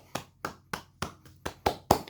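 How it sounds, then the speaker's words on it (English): Seven big, hollow hand claps at a slow, steady beat, each sharp and close, growing a little louder toward the end, like the broad ovation clap given at an opera's finish. "You know the big clap people do at the end of the opera after the fat lady sings?"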